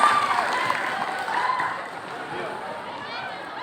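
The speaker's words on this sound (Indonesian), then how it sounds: "Kita beri tepuk tangan kepada M. Dafa Al-Faiz atas penjelasannya yang sangat jelas." A school audience gives sustained, dense applause after a student presentation at a Pancasila student-profile program, loud and steady for the whole stretch, with crowd voices mixed in.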